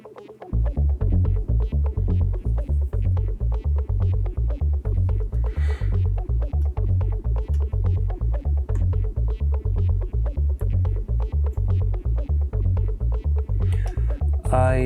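Soloed techno lead and bass loops from a VCV Rack DJ mix play loud and continuous, with a steady pulsing bass pattern under a repeating synth lead, no talk.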